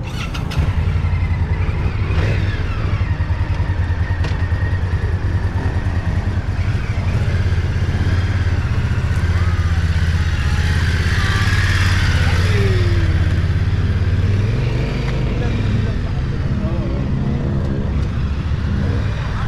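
A steady, loud drone of a group of Honda ADV motorcycles rumbling together as they ride off, with rising revs and passing vehicle noise throughout.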